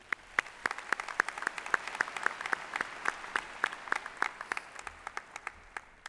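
An audience at a 2015 commencement ceremony applauds, a dense, steady patter of many hands clapping at moderate distance for several seconds, gradually thinning out toward the end.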